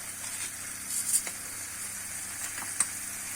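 Roast chicken sizzles steadily in a pan after a sprinkle of salt, a soft continuous hiss broken by a few sharp crackles and pops.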